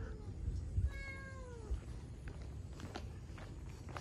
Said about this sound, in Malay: Banyaknya kucing.